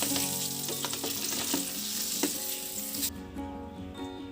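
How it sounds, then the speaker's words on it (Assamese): Dried fish frying in hot oil for an Assamese mustard curry, a dense close sizzle with spattering pops that suddenly thins and quiets near the end. "এতিয়া মাছখিনি ফ্ৰাই কৰা হ'ল"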